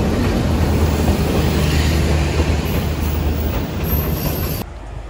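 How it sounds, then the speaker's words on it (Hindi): A passenger train pulls into a station in Karachi, with a loud, steady rumble and rattle of wagons and wheel noise close by that holds for several seconds and then drops away near the end. "तो यार ये आ रही है जी हमारी ट्रेन"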